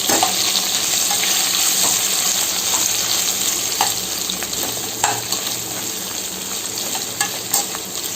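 Potato cubes fry for sabudana khichdi with a loud, continuous sizzle in hot oil, broken by occasional scrapes and knocks of a spoon stirring the pan close by.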